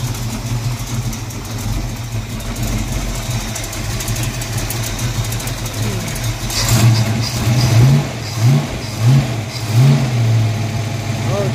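A Foxbody Mustang engine fires up and runs after an exhaust repair, a steady rumbling idle that swells into several loud rhythmic revs near the end, heard up close outdoors.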